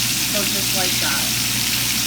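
Whitening fish frying in hot oil in a pan, a steady close sizzle and crackle running continuously throughout.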